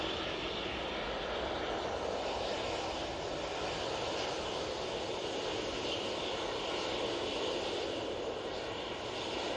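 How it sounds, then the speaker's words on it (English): A Jet2 airliner departs Manchester Airport, its engines giving a steady, broad roar that holds constant throughout, fairly distant and without talk. "And that Jet2 is off to Rome."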